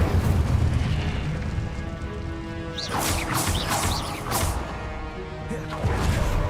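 In Hogwarts Legacy, the Incendio fire spell goes off as loud bursts and crackling whooshes over a dense game soundtrack, several blasts following one another in the middle of the clip.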